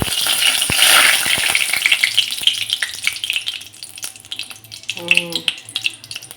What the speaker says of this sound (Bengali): তেলটা গরম হোক গরম হয়ে গেছে কড়াইতে এবার আমি একে গোটা ফোড়নটা দিয়ে দেব